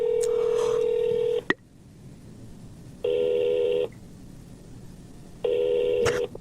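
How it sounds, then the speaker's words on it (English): Telephone keypad dialing tones sound close and clear: a short steady beep, then two more evenly held tones separated by pauses, with small clicks between them. "Okay, star 67 and call."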